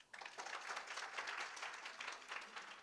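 Clapping from a gathered audience at a Ramayana discourse, a brief burst of steady, moderately distant applause that starts abruptly and holds evenly to the end.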